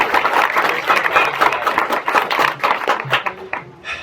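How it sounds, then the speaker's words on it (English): Graduating high school class receiving another round of applause at a commencement ceremony, dense crowd clapping sustained throughout, fairly loud and close with a few faint voices mixed in. "you do deserve another round of applause"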